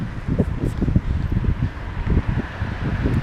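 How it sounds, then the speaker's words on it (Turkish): Strong gusty wind buffets the microphone in low rumbling bursts, rising and falling continuously without any talking. "Acayip rüzgar var."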